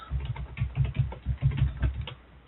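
Computer keyboard keys tapped steadily while an IP address is entered, a continuous run of soft, muffled clicks at an even pace, close and fairly quiet, with no talking.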